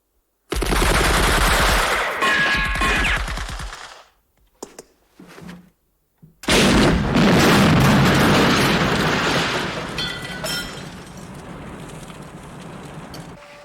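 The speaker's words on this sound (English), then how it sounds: "We're getting fire from the church belfry, the mill house, the pub." Heavy war-film gunfire and explosions: loud sustained bursts of automatic fire and booms open the scene, break into a few scattered shots, then a fresh barrage erupts and slowly tapers toward the end.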